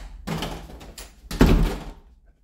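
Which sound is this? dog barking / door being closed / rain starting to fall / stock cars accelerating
door being closed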